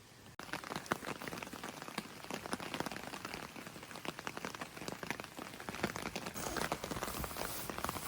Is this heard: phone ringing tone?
no